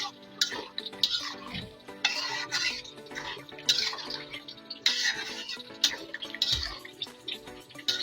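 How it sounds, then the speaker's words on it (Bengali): Spoon scraping and stirring hilsa fish and taro frying in a pan with a little water, sizzling with clinks of utensils repeating across several seconds, close up with no talking. "অল্প পরিমাণ পানি দিয়ে একদম ভাজা ভাজা করবো মাছ আর কচু একসাথে"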